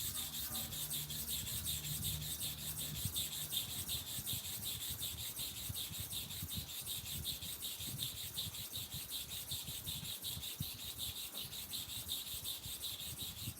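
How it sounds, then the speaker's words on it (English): A barber's blade rubs back and forth on a wetted sharpening stone, a steady, continuous close rasping that runs on without pauses and with no talk. "You reapply the chemical again, you can't sharpen on the dry stone."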